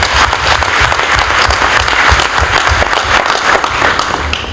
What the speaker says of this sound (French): nous le prions de l'applaudir magnifiquement